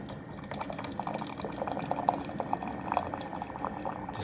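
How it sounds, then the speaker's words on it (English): Hot water dispensing from a Cuisinart 12-cup programmable coffee maker with a hot water feature, a steady bubbling, gurgling trickle close by that continues for several seconds with small pops and drips. "dispense some water."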